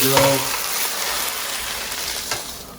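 Steak fried rice sizzles hard in a hot pan over high heat, a loud, crackling hiss that starts with a brief clatter and then carries on steadily, with no voices.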